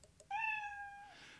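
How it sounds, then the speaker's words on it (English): A single drawn-out cartoon-like cat meow from the Scratch programming editor's built-in sound library, clear and close, rising then holding steady before fading, with no talking. "In sounds right now, there is a meow sound"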